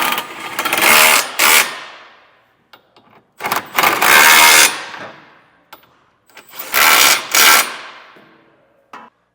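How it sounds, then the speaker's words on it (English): Impact-style power tool with a 19mm socket snugging down hitch bolts on a 2017 Toyota Sienna: three loud, close bursts of rattling, whirring hammering, each a couple of seconds long with quiet gaps between. "Now we'll take a 19mm socket and get all of our bolts snugged down."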